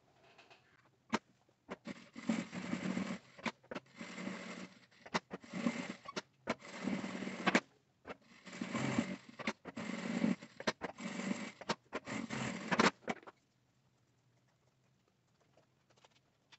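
Sped-up sewing machine stitching on a wrist wallet bracelet comes as rapid choppy bursts of pattering mechanical noise separated by short gaps, close and moderately quiet, then ends in near silence.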